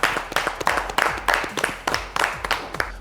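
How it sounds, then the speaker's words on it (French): Studio audience applauding on a Côte d'Ivoire TV talk show set, rhythmic clapping in regular bursts from a small group, fairly close and loud. "Et rien que pour ça, on aimerait vous applaudir."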